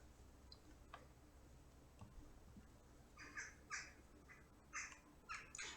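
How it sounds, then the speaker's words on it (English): Jackdaws and crows call in a residential neighborhood, a scattering of sharp, clipped caws and chatters from several birds that grow busier and louder in the second half, heard at moderate distance over a quiet background. "you're also hearing jackdaws. There are quite a few in this neighborhood."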